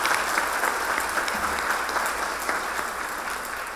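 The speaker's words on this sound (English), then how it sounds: "Let's give them another round of applause." A gala audience applauds the 2021 History Makers honorees at the African American Museum of Iowa event, a dense, sustained round of many hands clapping at an even level without speech.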